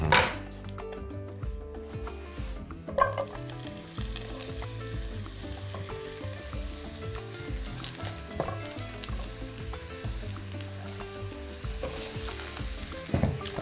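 Mushroom pieces fry and sizzle steadily in a pan, a loud continuous crackle with occasional stirring scrapes and clinks, no voices.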